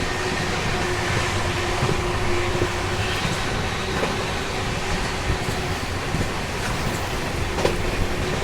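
Premium express train running at high speed on the rails, a steady loud roar and rumble with faint clatter throughout and no pauses.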